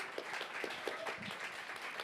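Audience applause for a panel discussion on new media, storytelling and disability, with steady, moderate clapping from a small crowd that carries on for a couple of seconds.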